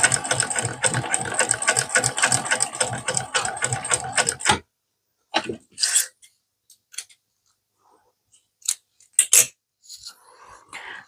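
Singer 291u1 industrial sewing machine stitching a crossbody bag, running in a steady rapid mechanical whir for about four seconds, then stopping, followed by scattered clicks and handling noises.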